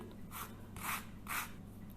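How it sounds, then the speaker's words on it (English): An orange rubbed against a zester, three short scraping strokes in a steady rhythm, close and fairly quiet against a soft background hum. "For the second one, I'm going to extract the zest from an orange."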